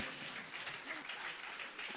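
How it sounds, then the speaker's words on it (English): Steady, dense applause from the audience at a golden jubilee celebration, a continuous crowd of hands clapping at moderate distance with no break. "So big applause for all of you who have made it to this event."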